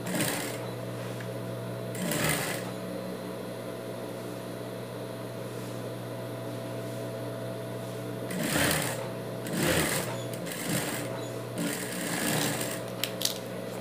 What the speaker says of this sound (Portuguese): Passar, passa tudo no seu overlock